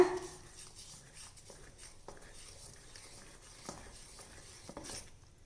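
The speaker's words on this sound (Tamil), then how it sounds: "இப்போ இது நல்லா கலந்து விட்டுக்கலாங்க" Appam batter of rava and maida is stirred together with sugar water in a bowl, producing faint, soft swishing and occasional light taps of the spoon, quiet and close, with no talk.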